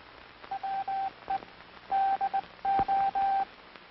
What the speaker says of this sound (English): Listen to the sounds of the key. These sounds are transmitted in International Morse code.